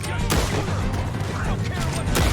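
Gunshots ring out in Red Dead Redemption II, a dense run of loud cracks over a steady rumbling backdrop, with a couple of sharp reports standing out near the start and end.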